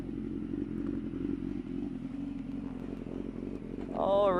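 A 2016 BMW motorcycle at speed on a racetrack on racing slicks, a steady loud engine drone held throughout, with a brief rising whine near the end.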